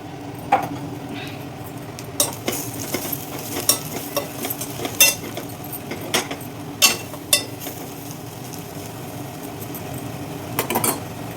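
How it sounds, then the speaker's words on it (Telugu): Cabbage and green peas curry with ginger and chili fries in a little oil in a pan. A spoon stirs it, making sharp scraping clacks at irregular intervals over a low, continuous sizzle, with no voices. "కాస్త ఒక్క 2 నిమిషాలు ఇట్లా వేగనిద్దాం."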